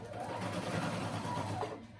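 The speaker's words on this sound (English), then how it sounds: "now I'm gonna go in and sew with a straight stitch down over and all the way down to keep it closed" A sewing machine runs a straight stitch down the straps of a batwing summer dress, a steady close mechanical whirr with a rapid needle patter, holding an even level for two seconds before easing slightly at the end.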